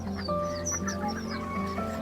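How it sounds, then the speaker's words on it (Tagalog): Several chickens in a cage cluck and call over a steady background hum, with overlapping squawks from a busy flock close by. "Daming manok sa loob ng cage."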